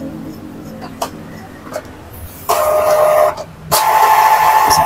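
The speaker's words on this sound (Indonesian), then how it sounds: "Seperti ini biasanya di awal nyalakan langsung head cleaning seperti ini" An Epson L3210 printer runs its head-cleaning cycle at power-on: a few soft mechanical clicks, then a steady whirring motor drone that pauses briefly before resuming, close and fairly loud with no talk.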